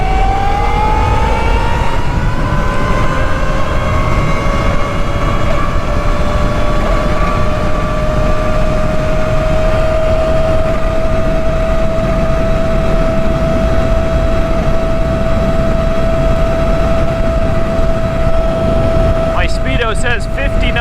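A Talaria Sting MX5 electric dirt bike accelerates to its top speed, a rising motor whine that climbs in pitch and then holds steady at a high tone over loud, constant wind rush, with no talk.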